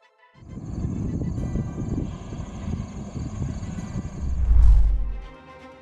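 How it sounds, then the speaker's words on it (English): Light aircraft belly landing on a runway after a landing gear malfunction: a loud, rough scraping and rumble grows in, swells toward the end with a deep heavy thud, then drops away. "a light aircraft experienced a malfunction with its landing gear during the final approach, forcing the pilot to perform a belly landing on the runway"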